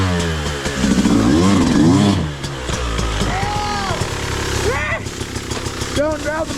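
A Beta 200RR enduro motorcycle engine runs close by on an outdoor enduro trail, with a loud, rough idle rising into brief revs. Voices talk over it throughout.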